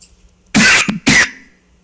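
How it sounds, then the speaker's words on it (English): Two sharp coughs in quick succession from one person, loud and close, the second following right after the first, in an otherwise quiet room. "Don't cough"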